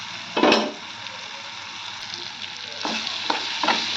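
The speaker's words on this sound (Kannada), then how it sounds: "ನೋಡಿರಿ ಪುಟಾಣಿ ಚಂದ ಫ್ರೈ ಆಗಬೇಕು" Roasted gram frying in a pan and being stirred, a constant crackling sizzle with three or four louder scraping strokes, close and clear, no talk.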